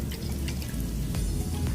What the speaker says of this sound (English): What you need is 4 cups of water and 2 teaspoons of kosher salt. And you just go ahead and give that a little mix to dissolve the salt.